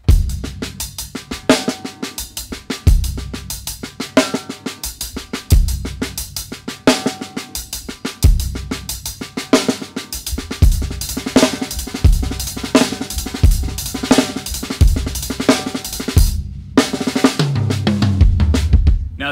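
Full drum kit playing a half-time groove built on double strokes, with the kick drum landing only on beat one; dense steady sticking continues throughout at close, loud level, alone.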